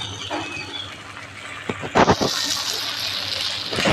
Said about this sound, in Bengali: এই বাটিটা ধুয়ে অল্প জল দিচ্ছি।